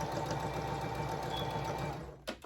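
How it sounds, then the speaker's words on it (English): Sewing machine stitching across the top and bottom of a fabric face mask, a steady close whirring run for about two seconds that winds down at the end with a short clunk. "So all we did was sew across the top, across the bottom of the mask."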